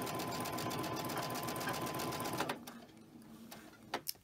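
A sewing machine stitching cotton quilting fabric runs in a loud, steady whir for about two and a half seconds, then stops, followed by a couple of sharp clicks in the quiet.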